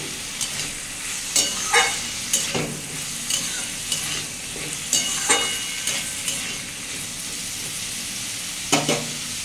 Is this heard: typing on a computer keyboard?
no